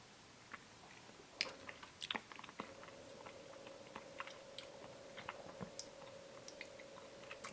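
Soft, close chewing of a trekking burger with cheese, pickles and mustard sauce: scattered small crunchy clicks and moist bites spread irregularly over several seconds, with no talking.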